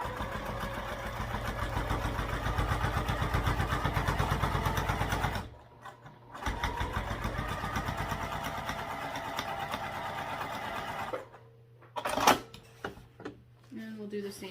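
A sewing machine topstitches a wallet in two long steady runs of rapid mechanical chatter, close up, each stopping abruptly, followed by brief handling clicks.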